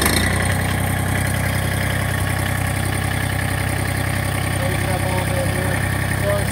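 A Massey Ferguson 2326 compact tractor with a belly mower attached idles close by, a steady low rumbling drone with constant loudness throughout.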